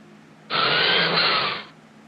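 A power tool sound effect: a single loud burst of whirring buzz, about a second long, starting and stopping abruptly against near silence.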